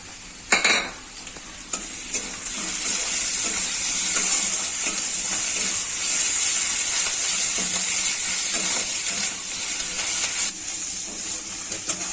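Garlic and ginger fry in a pan while being stirred, a steady loud sizzle and hiss running throughout with occasional scrapes of the spoon, no talking.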